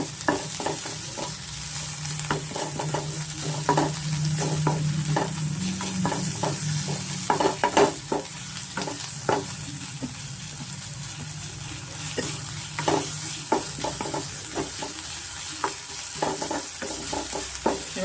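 Onion and ginger garlic paste fry in a pan, a steady sizzle running throughout with frequent scraping stirs and spoon taps close by, no voices.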